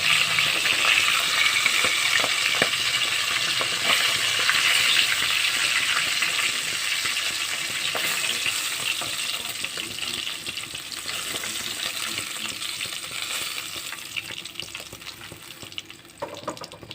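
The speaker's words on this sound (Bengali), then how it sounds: "এভাবে সবগুলি মাছ ভেজে নেব" Bacha fish frying in hot oil in a pan, a broad steady sizzle with fine crackling that slowly softens toward the end, plus faint handling noises; nobody speaks.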